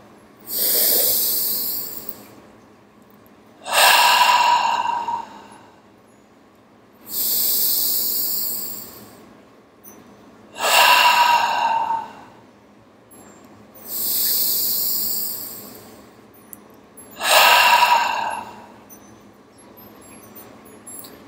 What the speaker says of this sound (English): Let's take 3 breaths together. In through the nose, out through the mouth.